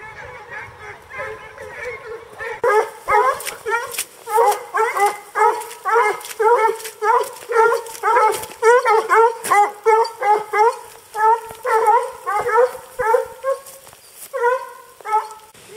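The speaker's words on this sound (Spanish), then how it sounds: "Ahí vienen unos perros con jabalí que acabo de ver" Hunting dogs chasing a wild boar during a hunt bark in rapid, repeated volleys with yips, loud and fairly close, sustained over several seconds.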